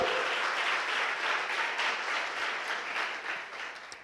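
A church congregation applauds during a sermon, a dense, continuous wash of clapping that holds steady and slowly fades toward the end.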